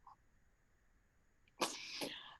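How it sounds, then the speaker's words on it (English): A single powerful sneeze bursts out loud and close after a quiet pause, with a short breathy tail trailing off. "It was a grand sneeze."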